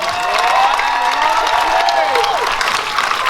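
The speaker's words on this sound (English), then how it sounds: "give him a round of applause, please" Applause and cheering at a live comedy show, a crowd clapping steadily with whoops and raised voices layered over it, loud and continuous.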